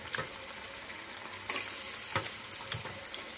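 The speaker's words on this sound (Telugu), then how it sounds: "ఇప్పుడు కాలీఫ్లవర్ వేసుకోవాలి" Cauliflower stirred and frying in a pan for a curry, with a steady sizzle under scattered scraping stir strokes and clacks, close and moderately quiet.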